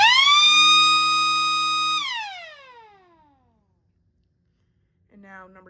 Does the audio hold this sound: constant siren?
yes